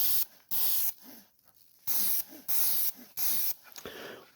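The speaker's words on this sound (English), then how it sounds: "you don't really have to worry too much like a spray paint" Several short, sharp bursts of aerosol spray paint onto a 1/18 scale toy vehicle, each a loud hiss lasting about half a second, separated by quiet gaps.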